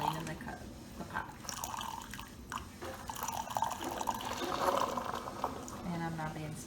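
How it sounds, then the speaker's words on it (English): A Keurig coffee maker dispenses hot water to clean the pot, giving a steady trickling, dripping flow that is soft and continuous, heard up close at low volume. "Now this is just hot water. We're just cleaning the pot."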